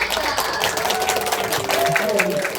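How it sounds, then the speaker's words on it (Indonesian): An audience claps after a Marawis percussion performance at a school arts show, dense applause from a crowd filling the room, with voices and some whistle-like tones mixed in beneath it. "Mari kita berikan tepuk tangan sekali lagi untuk mereka."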